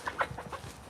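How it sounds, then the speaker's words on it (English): A farmyard chicken gives a few short clucks in quick succession, fairly close and moderately loud, over soft outdoor background noise. "there's a chicken, in case you've never seen a chicken before"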